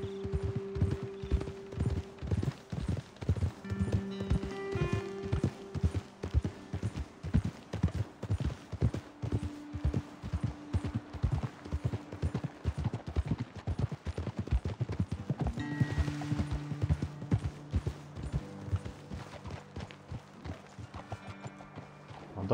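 Horses trot along in Red Dead Redemption 2, a close, continuous clip-clop of hooves with a steady rhythm over a faint low background, and no talking.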